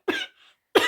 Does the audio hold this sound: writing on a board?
no